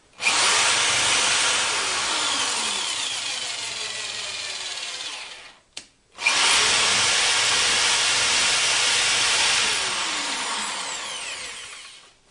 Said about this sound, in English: I'm just going to use a drill here